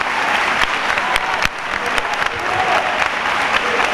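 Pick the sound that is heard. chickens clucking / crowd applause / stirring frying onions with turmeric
crowd applause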